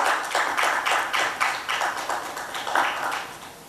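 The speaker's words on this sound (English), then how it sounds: "Round of applause with our small crowd that we also have here." A small studio crowd on a morning TV show gives a round of applause, steady overlapping claps that swell and ebb for a few seconds, fairly close and without talk.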